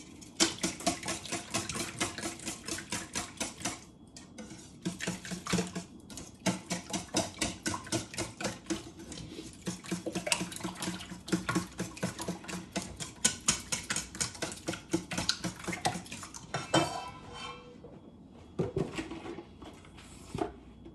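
A whisk or fork beats eggs in a bowl for breakfast sandwiches, making fast, rhythmic clicking strokes in bursts with short pauses, close and fairly loud throughout.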